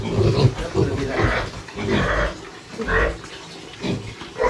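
Eight young piglets squeal and grunt in their new pen on a rural farm, bursts of high cries coming in irregular waves, close and fairly loud, with splashing water and faint voices mixed in.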